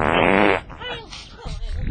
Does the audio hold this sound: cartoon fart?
yes